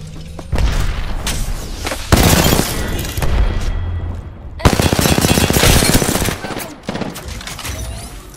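A grenade explosion and gunfire in the video game Apex Legends come as loud, dense rattling bursts with heavy booms that start and stop abruptly, near and constant across the clip.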